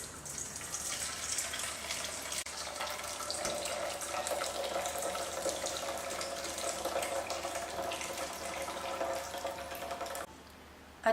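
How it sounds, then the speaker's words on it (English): Cooking liquid from a pot of cabbage rolls pours steadily out past a half-open lid into a sink, a continuous close splashing stream that runs for about ten seconds before cutting off, with no voices. "I'm going to drain the liquid."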